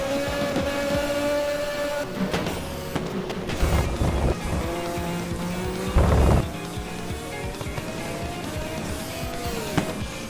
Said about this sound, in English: Just a bit of a skidding.